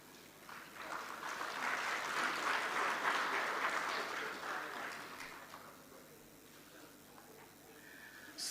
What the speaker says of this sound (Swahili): tupongeze tena kwa makofi mengi